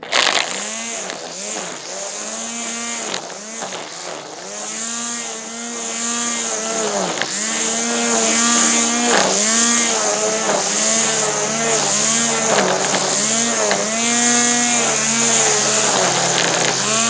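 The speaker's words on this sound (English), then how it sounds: "One of the neighbors is having a tree stump grinded down." A stump grinder chews down a tree stump nearby, a loud, steady engine roar with rising and falling whine as the cutter bites into wood, continuous throughout with no talk.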